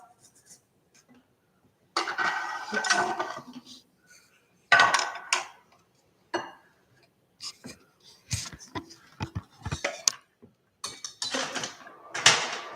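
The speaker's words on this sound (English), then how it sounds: "I usually use this, which is the grater, and I grate it so that I get the ginger in a fine way" Fresh ginger is grated on a handheld grater in a home kitchen, making bursts of dry, raspy scraping strokes in irregular clusters separated by short pauses.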